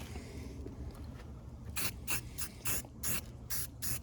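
Primer surfacer sprayed onto the rocker panels of a Porsche 914 in about six short aerosol bursts, each a loud hissing puff with brief pauses between, over a low steady background hum.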